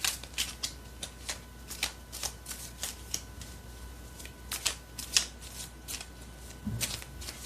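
Tarot cards are shuffled and drawn by hand in a quiet room, a series of crisp riffling flicks and soft slaps that come in an uneven rhythm, close and fairly clear.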